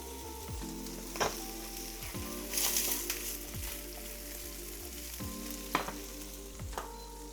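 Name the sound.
salmon sizzling as it cooks in a pan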